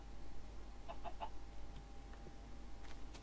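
A Minecraft chicken gives a few quick, faint clucks early on, then only scattered soft game sounds follow over low background noise.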